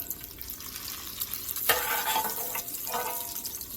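Ingredients for smothered corn with tomatoes and sausage sautéing in a pan, a quiet sizzle with scraping stir strokes and a sharp clatter midway, no voices.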